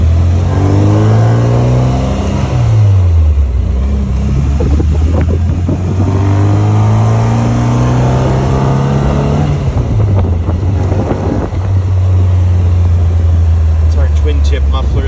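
A Bugeye Sprite with a 948 engine and a twin-tip muffler pulls away across an empty parking lot. Its exhaust note climbs, drops back with each gear change and rises again in loud, repeated revving sweeps.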